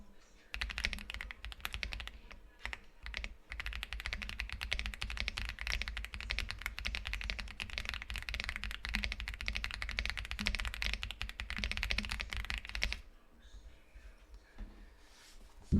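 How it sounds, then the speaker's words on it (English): Rapid, steady keystrokes on an Epomaker X Aula 75 mechanical keyboard during a typing test, a dense continuous clatter of close, crisp key presses that runs for about thirteen seconds before stopping into near quiet. "I'm going to do a typing test so that way you can hear it."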